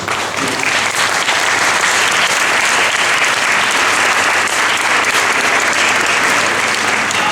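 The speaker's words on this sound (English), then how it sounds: "give them a hearty round of applause" A large audience gives team members a hearty ovation, loud, thick, continuous clapping from many hands that holds at a constant level from start to finish.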